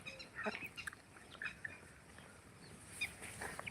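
Free-range village chickens eat khichdi in a field, pecking quietly, with soft scattered clucks and calls over a faint outdoor background.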